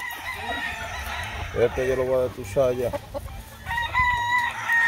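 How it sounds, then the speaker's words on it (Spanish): A rooster at a gamecock breeding yard crows in two nearby bursts, with someone speaking over and between the calls. "Ay, es bueno, vale, este gallo."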